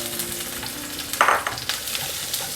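Chopped garlic and three or four dried red chillies sizzle steadily in hot oil for dal with drumsticks, a sharp burst of spitting as the garlic goes in, then soft stirring crackles under a continuous fry.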